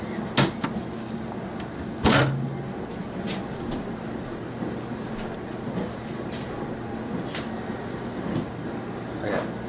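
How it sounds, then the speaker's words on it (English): Steady low machine rumble runs throughout, with occasional sharp clatters and clicks over it, like a dishwasher churning nearby in a quiet room. "The dishwasher is going."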